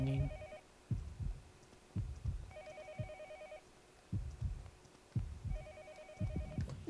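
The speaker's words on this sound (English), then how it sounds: "Is that a phone ringing?" A telephone in the horror game Yomawari: Night Alone rings in three repeated trilling bursts over low, thumping heartbeat-like pulses, quiet and with no talk.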